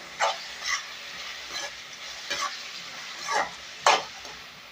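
Tomatoes sautéing in a pan, with a quiet low sizzle and several soft scraping stirs of a spatula arriving at irregular intervals.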